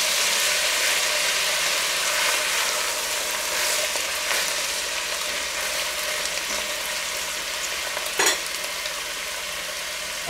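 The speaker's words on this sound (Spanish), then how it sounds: "Vamos a freír esto un poquito" Vegetables with carrot fry in a pan for a lamb stew cooked in wine, giving a steady, fairly loud sizzle throughout with faint stirring and one sharp knock of a utensil near the end.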